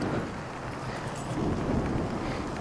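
Rain falls while leaving home, a dense, continuous hiss with rumbling wind-like buffeting close to the microphone, steady throughout with no talk.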